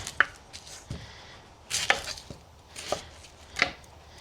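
A knife chops an onion on a cutting board in a handful of separate, crisp thuds spaced about a second apart, close and fairly quiet, with no talking.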